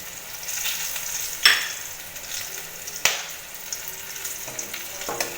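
Cardamom, cloves and cinnamon sizzle and hiss in hot oil for dish of yogurt-style katla fish, with sharp spattering bursts as spices hit the pan and a steady frying crackle between them.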